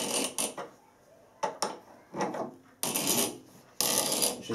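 A spanner turning a hand tool cutting a left-hand 10 TPI Acme thread, heard as several short, harsh rasping scrapes separated by pauses, fairly close and moderately quiet.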